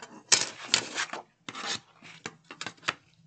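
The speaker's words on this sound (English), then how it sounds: "So I am going to trim away just a little bit here" Rough rasping strokes of a blade trimming the sides of a recycled cardboard gift box being made into a desktop organizer, close up, in several uneven bursts with brief pauses.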